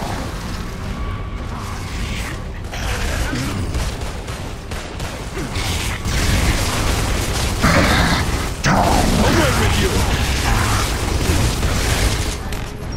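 Sustained gunfire and explosions in the Gears of War: Judgment video game, loud and continuous with dense booming bursts and mechanical clatter throughout, without letup.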